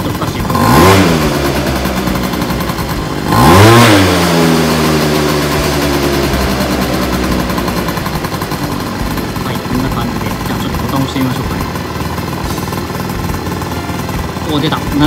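A Yamaha Aprio scooter engine revs sharply twice near the start, each burst climbing in pitch toward about 7200 rpm, then settles into a steady, loud idle drone; a person talks over it.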